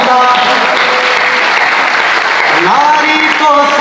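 An audience at a Hindi poetry recital (kavi sammelan) at NIT Jalandhar claps in steady, sustained applause, while a voice speaks over the clapping.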